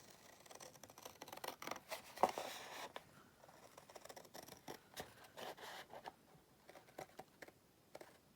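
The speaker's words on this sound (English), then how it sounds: "Now onto the scissors. Okay, so first bit is to cut down this score line here." Scissors snip along a score line in card for a chocolate orange gift box, faint close crisp cuts in short irregular bursts with small rustles between them.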